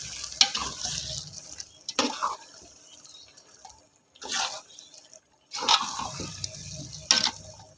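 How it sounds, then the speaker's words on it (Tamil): Fenugreek and mustard powder stirred into hot lemon pickle: bursts of wet sizzling and scraping stir strokes separated by short quiet gaps, close by and without speech. "போட்டு இது நல்லா கிளறி விட்டுருவோம்"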